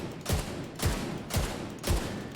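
Big Horn rifle in The Division 2 firing on automatic: four loud, evenly spaced heavy shots about half a second apart, each a sharp broadband crack with a booming low tail, no talking.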